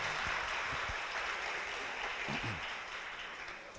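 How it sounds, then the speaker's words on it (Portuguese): A church congregation gives a soft, sustained wash of applause heard from a distance, faint and even, with a few low thumps near the start and midway. "Dá um aplauso, gente, por Benjamin, rapaz."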